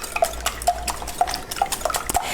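A spoon or whisk beats vanilla into homemade zucchini bread batter from a 1960s recipe, producing quick, steady knocks against the bowl with wet stirring between them, close up and without talk.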